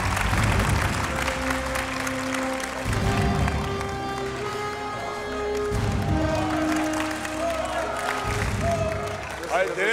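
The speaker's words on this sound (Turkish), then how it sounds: "Alkışlıyoruz." A Turkish talent-show studio audience applauds and cheers in a sustained crowd roar, with music and voices mixed in and the clapping continuing throughout.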